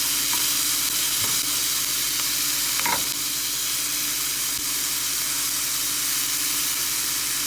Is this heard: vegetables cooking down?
yes